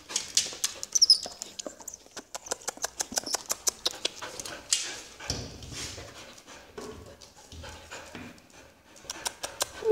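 A pet puppy moves about and whimpers nearby, its paws tapping in quick uneven bursts with soft whines and rustles between them, fairly close and moderately loud.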